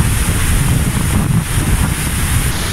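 The Devil's Throat at Iguaçu Falls roars as a massive volume of water crashes down, a loud, constant wall of rushing noise with some wind buffeting on the microphone.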